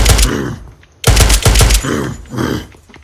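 Loud bursts of rapid gunfire ring out in the Unturned video game, several volleys in quick succession separated by a short pause.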